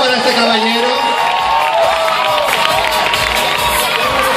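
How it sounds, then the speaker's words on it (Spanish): A lively audience at the 2022 Gáldar Pride gala cheers and shouts with steady crowd noise and some applause. The sound is loud, continuous and close, with voices rising and falling throughout. "Fuerte el aplauso para este caballero."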